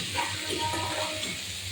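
A spoon stirs banana peel frying together with shrimp in a pan, giving a soft, continuous sizzle with scraping and shuffling. It is close and moderately loud, with no voices.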